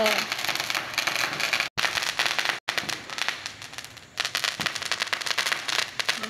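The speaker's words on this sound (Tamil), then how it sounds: "ஓ, பட்டாசு அடிக்கிறாங்க." Firecrackers going off outside in rapid, dense crackling bursts, a continuous stuttering volley with brief gaps, fairly loud and unbroken by talk.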